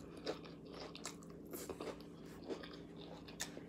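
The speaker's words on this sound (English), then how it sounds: "you hear that crunch of that pita chip" Crunchy pita chip bitten and chewed up close, a few sharp crisp crunches followed by quieter chewing, faint and intimate with no talking.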